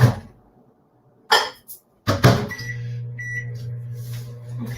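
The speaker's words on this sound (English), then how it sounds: "I'm going to stick that in the microwave for just a little, like 30 seconds maybe" A microwave oven warming cream and spices for about thirty seconds runs with a steady low hum after a couple of door or button clunks, with a brief beep partway through, close and moderately loud.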